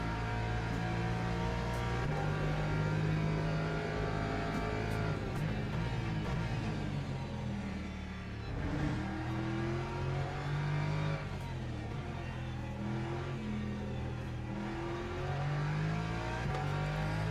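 Race car engines from the Le Mans Ultimate racing game rev and rise in pitch continuously, a loud, steady drone of several cars with shifting tones and no voices over it.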